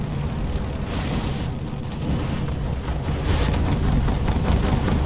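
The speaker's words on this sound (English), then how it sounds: "massive strafing run by the American there" Thunderbolt fighter planes make a strafing run in the R.U.S.E strategy game, a dense, steady roar and rumble that swells gradually louder over several seconds, with no talking.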